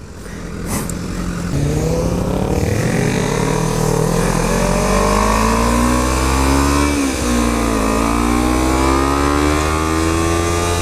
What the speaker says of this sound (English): we got Mike here on his BMW S1000RR